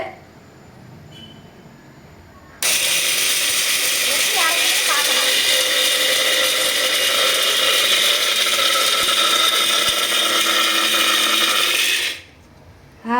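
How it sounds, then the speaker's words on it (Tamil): A new bullet-style electric mixer grinder grinding pepper and cumin, switching on abruptly into a loud, steady high whirring roar that runs about ten seconds before cutting off, with quiet talk before it starts. "இப்போ வந்து நான் என்ன பண்ண போகிறேன் அப்படின்னா, மிளகு சீரகம் வந்து அரைக்கிறேன்"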